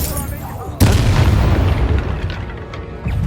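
Confringo spell blast in the Hogwarts Legacy video game, a sudden loud booming explosion that rumbles and fades over a few seconds, with game noise around it.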